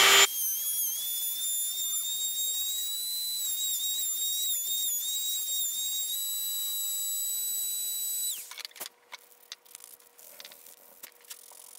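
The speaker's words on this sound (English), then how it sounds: "I'm just going to carve out these eye sockets." A high-pitched rotary carving tool whines steadily for about eight seconds while hollowing eye sockets into a wooden musky fishing lure, then cuts off, leaving faint clicks and handling noises.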